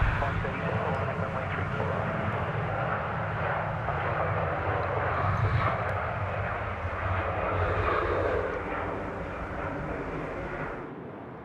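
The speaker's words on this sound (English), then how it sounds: "That aircraft there you're just hearing is Singapore A380 in the background" A Singapore Airlines Airbus A380 passes at Sydney Airport with a deep, continuous, rumbling engine roar that holds for many seconds and then slowly fades, while people talk over it.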